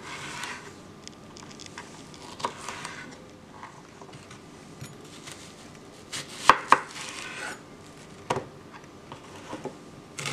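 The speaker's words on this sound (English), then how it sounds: "we're gonna go on to cutting our bell pepper and onion" A knife chops bell pepper and onion on a cutting board in a home kitchen, giving sparse, irregular taps that cluster into a few sharp louder knocks, with quiet room tone between strokes and no talk.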